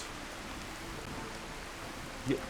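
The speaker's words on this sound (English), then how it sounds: "It's raining." Rain in the video game Skyrim, a soft steady hiss of rainfall spread evenly throughout, with a brief faint knock near the end and no talk.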